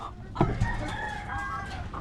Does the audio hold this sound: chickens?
yes